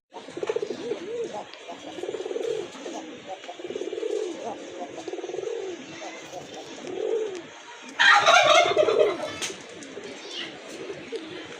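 Domestic pigeons, white local birds kept for breeding, give repeated soft rhythmic coos in close succession, a rustle of wings breaking in near the end, with a person speaking between the calls.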